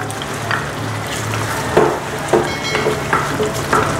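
Carrots tipped into a hot pan for sweet and sour pork and beans, frying with a steady sizzle while a utensil scrapes and clacks against the pan in several spaced strokes, close up.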